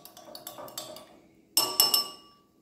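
A spoon stirs a Forever Aloe drink in a glass, giving bright ringing clinks: a quick series of light taps, a short pause, then a louder cluster of sharp glassy strikes that fade away. Close and clear, with no talking.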